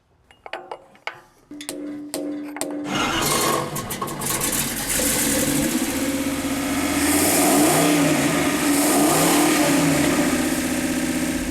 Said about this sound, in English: we ran the engine for 20 minutes at various RPMs